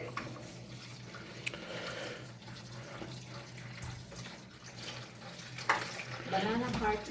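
Clean tap water runs over boiled banana heart in a home kitchen, a steady soft hiss of flowing water with occasional clatter, while a person talks over it.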